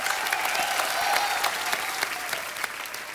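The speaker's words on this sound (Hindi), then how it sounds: "जोरदार तालियां एक बार।" Studio audience on a Hindi comedy talk show applauding, a dense, steady wash of clapping from many hands that carries loudly through the whole stretch without voices.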